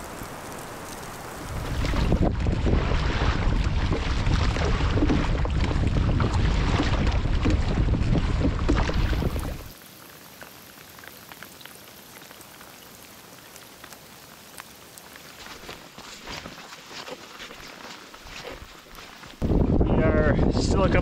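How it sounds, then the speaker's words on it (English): Wind blows during a long snowy crossing on foot toward a remote off-grid cabin. A loud gusting roar fills the first half, then eases to a softer steady rush before rising again at the end. "it's still windy, still kind of working with the headwind here"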